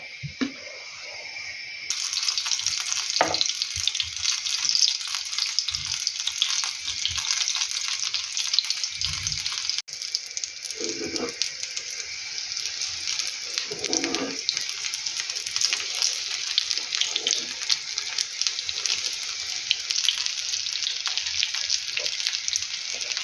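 Kefir pancakes with fresh cherries fry in oil in a pan, giving a loud, continuous sizzle and crackle close up, with occasional soft clinks and movements under it and no talking.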